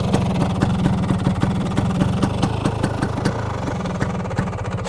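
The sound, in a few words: Excel 200 motorcycle engine idling with aftermarket block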